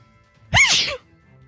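A single loud sneeze bursts out during a tabletop roleplaying game session, lasting about half a second against a quiet background.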